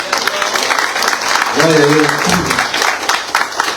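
A church congregation claps loudly and steadily in praise to God, a dense wash of hands throughout, while a voice calls out over the clapping near the middle.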